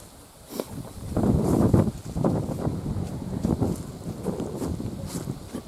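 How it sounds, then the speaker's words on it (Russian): Wind gusting outdoors in the countryside on a cold, sunny autumn day, buffeting the microphone in uneven rushing swells that rise and fall for several seconds. "И ветрено."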